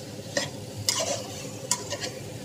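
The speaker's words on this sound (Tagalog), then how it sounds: "Kasi yung bawang at sibuyas, habang ginigisa niya, may paminta at sibuyas." Garlic and onions seasoned with salt and pepper sautéing in a pan, a soft continuous sizzle with a few crisp spatula scrapes and stirs, close by and with no voices.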